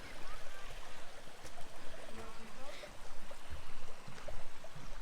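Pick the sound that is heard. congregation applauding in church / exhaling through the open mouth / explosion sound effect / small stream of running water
small stream of running water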